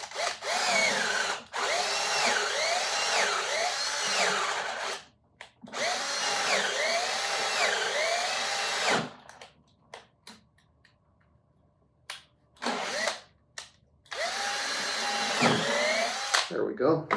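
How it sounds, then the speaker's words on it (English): A power drill with a 5/16 inch bit bores a couple of holes for a dowel in a steel string guitar neck. Several loud, close bursts of whirring drilling are separated by short pauses, with quieter knocks between them. "And I'm just going to drill a couple of holes here."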